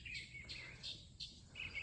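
Wild birds chirping outdoors, a few faint high tweets from different directions repeating in short bursts over a quiet low background hum, somewhat distant.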